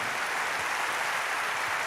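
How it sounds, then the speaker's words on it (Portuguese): Dense, sustained clapping from a church congregation applauding, a continuous close wash of many hands with no pauses and no voices over it. "Aplauda mais forte."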